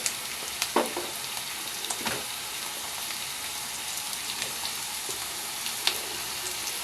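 Vegetable pieces sizzling and frying in a pan for sambar, bottle gourd and drumsticks among them, a steady close hiss broken by a few soft clinks and splatters, no talking.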